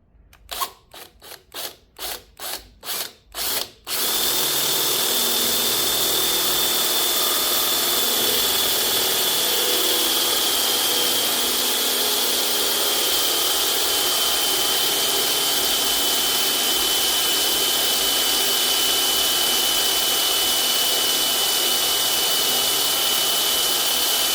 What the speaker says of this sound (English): Let me get the bit set up and we'll drill.